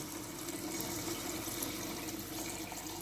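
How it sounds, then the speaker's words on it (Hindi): Water pours steadily into a pot of mutton korma, a continuous, faint splashing flow with no talk. "हमने यहाँ पर इसके अंदर पानी ऐड करना है।"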